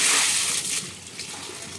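Tap water gushes steadily while fish tank parts are rinsed under it, a close, broadband splash that is loudest at the start and eases slightly, with no voices.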